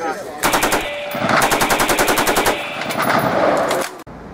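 Rapid rifle fire rings out in fast, evenly spaced strings of loud, sharp shots, with two long bursts separated by a short gap, close and dominant before cutting off abruptly.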